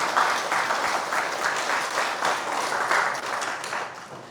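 An audience at a creditors' association event gives a round of applause, dense clapping that swells in waves and stays strong throughout the few seconds.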